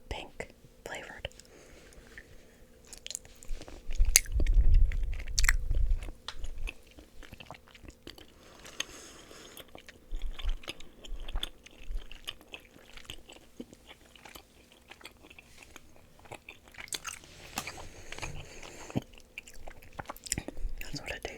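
Red strawberry licorice candy being chewed close to the mic, soft sticky mastication sounds with a few louder bites, mixed with quiet whispering throughout.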